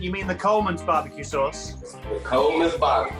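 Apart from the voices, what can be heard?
No everyday noise stands out behind the speech.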